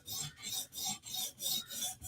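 Chris Reeve Inkosi knife drawn across the stone of a TSProf Kadet sharpener, five even rasping strokes in a steady back-and-forth rhythm, close and fairly quiet.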